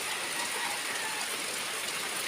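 Steady rain falling outdoors on a hot day, a dense continuous hiss with no pauses, fairly close and even throughout.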